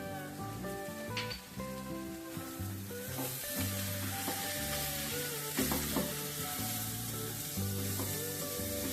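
Onion filling for kachori frying hard on a high gas flame with turmeric and sugar, a loud, steady sizzle with scraping stirs running throughout, close up and with no talking.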